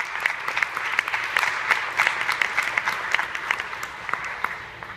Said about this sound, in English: Please, a round of applause again for the volunteers.